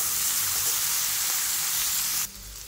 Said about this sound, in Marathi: ते टोमॅटो टाकून घेऊ आणि अद्रक आणि लसूण हे सगळं तळून घेऊ